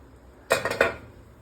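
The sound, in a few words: lid being taken off the steamer pot of oats idli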